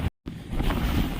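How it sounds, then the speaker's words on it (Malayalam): Strong wind blows across a hilltop at Kalliyamkadu in Idukki, roaring broadly and buffeting the microphone, with a brief dropout near the start. "ഇന്നും ആ കാറ്റുണ്ട്. സെറ്റ് കാറ്റാണ്."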